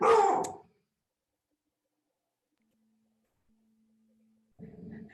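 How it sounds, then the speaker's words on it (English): A pet dog barks as the daily mail is delivered: a short loud burst of barking up front, a long quiet stretch, then a softer second round near the end. "The mail comes and my dog barks right at this time every day."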